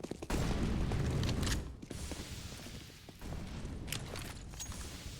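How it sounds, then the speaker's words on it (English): A grenade blows up in CS:GO on the Overpass map during a pro match, a loud low boom with crackling debris lasting over a second, then fainter mechanical clicks and rattles in the background. "The nade goes in, does a bunch of damage to any players still waiting."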